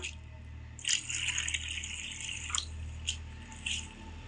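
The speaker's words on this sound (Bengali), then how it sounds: "এরকম চিড়ে নাড়াচাড়া করে সুন্দর করে আমি ধুয়ে জল ঝেড়ে নেব" Thick flattened rice (chira) being stirred and washed by hand in water, with soft sloshing and splashing bursts over a low steady background hum, close and fairly quiet.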